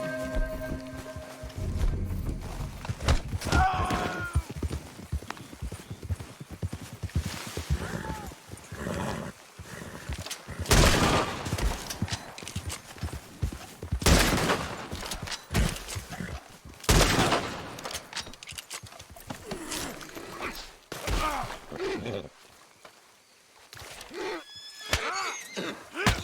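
Horse whinnies and hoofbeats from Red Dead Redemption 2, with bursts of gunfire in the game's Wild West setting, heard under frequent talking, several loud neighs and scattered shots over a busy mix.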